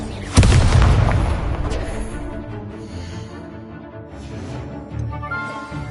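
Fire spells cast in the video game Hogwarts Legacy, a sharp loud blast near the start followed by a rumbling, fading boom and lighter crackles, with a voice briefly present.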